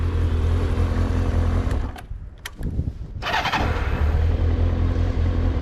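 A Kawasaki ZR-7 motorcycle engine runs at a steady idle, drops away briefly, then restarts and settles back into a continuous low rumble nearby.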